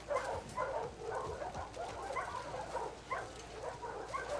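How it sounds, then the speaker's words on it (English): Dogs barking in The Last of Us Part II, a run of repeated mid-pitched barks and yips at moderate distance, steady throughout against a busy background. "There's the dogs."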